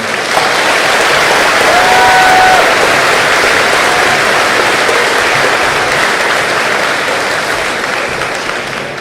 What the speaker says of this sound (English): Please join me in giving a resounding applause for these young men and women